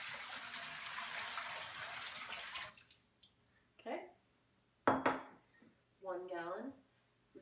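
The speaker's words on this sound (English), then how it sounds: "first we pour in 1 gallon of warm water" A gallon of warm water pours into a sink in a steady, close splashing rush for about three seconds, then stops; a few brief handling sounds and a short voice follow in the quiet.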